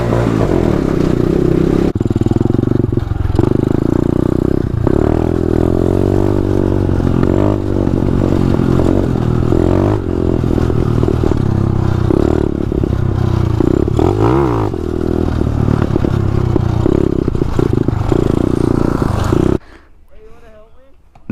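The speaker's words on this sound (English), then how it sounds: "Yo, my bike sounds dope." A motorcycle engine runs and revs loudly and steadily for about twenty seconds, its pitch rising and falling with throttle blips, with voices talking over it before it cuts off abruptly near the end.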